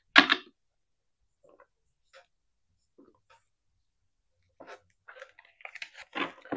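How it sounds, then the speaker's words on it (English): A deck of tarot cards being shuffled, with a quick papery riffle at the start and another run of soft rustling, flicking card bursts near the end, close and fairly quiet with gaps of near silence between. "let me just shuffle this real quick"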